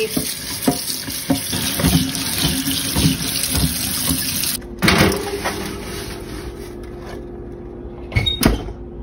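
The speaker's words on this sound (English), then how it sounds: "we're just gonna rinse off this piece of wood and rock here. And I'm just going to use hot water" Hot water runs from a kitchen tap as a piece of wood and rock are rinsed for reptile enclosure decor, a close steady gush broken by a brief pause, with knocks and handling clatter.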